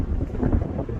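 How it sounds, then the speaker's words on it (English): Strong wind on a hiking trail between Hot Springs, North Carolina and Erwin, Tennessee buffets the microphone with a low, rumbling roar that gusts unevenly for a moment, with no voices. "It's very windy."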